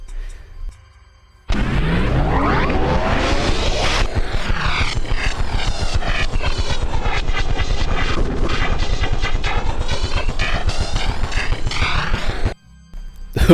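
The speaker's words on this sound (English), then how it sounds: "It sounds a lot like a helicopter landing" Helicopter landing sound in the Overwatch video game: a loud, steady rotor and engine roar with a dense rhythmic chop that starts abruptly, holds for about eleven seconds and then cuts off, with no talk over it.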